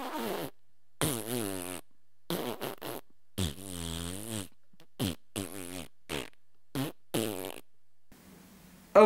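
A series of about ten comedic fart sound effects, each a short buzzy blast of varying length, separated by clean silences.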